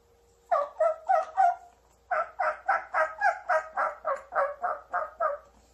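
A man imitates a turkey call with his mouth alone, no caller: a short burst of four yelps, a pause, then a longer even run of about a dozen raspy, clucking yelps, close and distinct.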